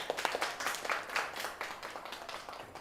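Applause for a rangoli team at a show, a brief burst of many hands clapping at moderate distance, fairly quiet and fading toward the end.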